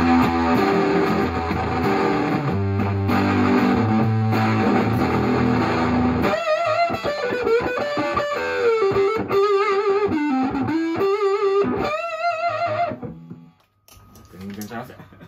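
Electric guitar played through a vintage Fuzz Face fuzz pedal after a resistor replacement, giving thick distorted strummed chords and then sustained bent lead notes, loud and close. The playing stops near the end, followed by a few quieter notes.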